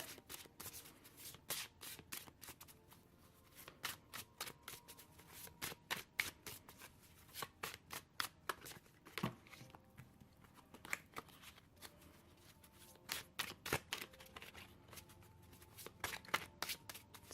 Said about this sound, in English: Beautiful shuffling on new cards.